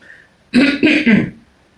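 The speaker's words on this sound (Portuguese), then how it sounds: "o pigarro aí, ó" A single throat clearing, close and fairly loud, in three quick rasping bursts before trailing off into quiet.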